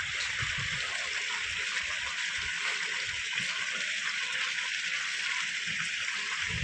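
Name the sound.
water flowing from a cow-mouth spout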